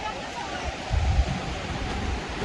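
A steady rush of stream water flows continuously at a picnic spot, a broad even wash with small surges and no clear speech.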